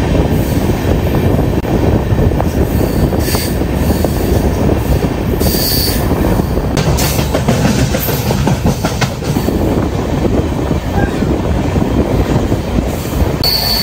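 Deccan Express from Mumbai CSMT to Pune, running through hill country with engines pulling and pushing: loud, continuous wheel squeal and clattering rail noise heard close from on board, with sharp metallic screeches and no talk.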